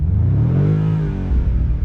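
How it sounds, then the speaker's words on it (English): A 2025 BMW M5 with a 727 hp V8 revs hard, its engine note sweeping up into a loud, close growl and then settling back into a deep rumble. "We can rev the engine all the way up to"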